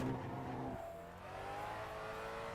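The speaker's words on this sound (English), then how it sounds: "Oh, curb skid." A race car in Assetto Corsa revs and shifts down while skidding over a curb, with steady engine tones and a brief tire scrub, no talk.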